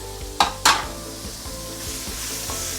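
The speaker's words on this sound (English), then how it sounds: "we can actually put in saute the minced meat" Minced meat sautéing in a pan for a tofu stew: a steady close sizzle with two sharp clanks of a utensil near the start, then soft rhythmic stirring scrapes continuing under the frying.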